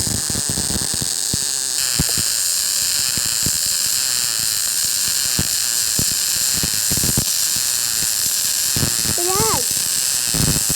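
A stick welding pass from a beginner's home welding machine, a steady broad crackling hiss running the whole way with sharp spitting pops, under someone talking.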